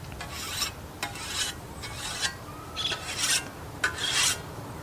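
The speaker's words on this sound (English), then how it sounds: "let me just hone the blade real quick before I get started" A scythe blade is honed with a light sharpening stone, giving a series of about six raspy scraping strokes in a steady rhythm, close and clear, with no talking.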